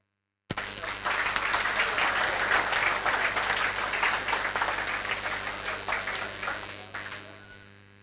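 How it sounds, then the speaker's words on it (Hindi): Audience applause at a welcoming ceremony honouring a teacher, with turbans given out, starting abruptly and holding steady, loud and dense, then gradually thinning toward the end. "तालियां, तालियों में कंजूसी मत करो यार।"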